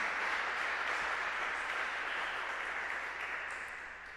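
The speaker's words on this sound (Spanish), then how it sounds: "dele un aplauso al Señor" A church congregation breaks into sustained applause, a dense, steady wash of many hands clapping together that fades slightly toward the end.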